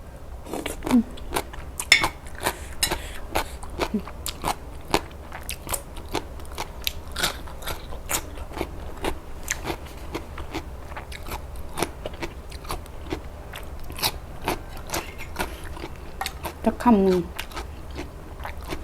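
Crunchy papaya salad with shredded green papaya is bitten and chewed close up, a long run of crisp, rapid crunches and wet chewing with occasional louder bites, while someone talks intermittently.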